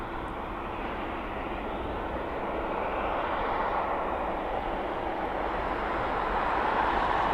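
A cargo aircraft takes off using the full length of an airport runway, a broad continuous engine roar at a distance that slowly builds in loudness.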